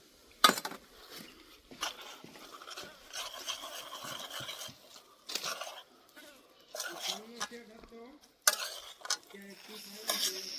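A spoon stirs khaman tempering with green coriander in a pan, making intermittent scraping and light metal clinks in short bursts, fairly quiet with gaps between strokes.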